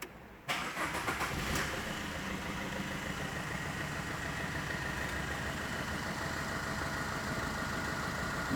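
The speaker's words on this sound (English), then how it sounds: "We start the vehicle." A vehicle fitted with a speed governor device cranks briefly and catches, then settles into a steady, even idle, close and continuous with no talking.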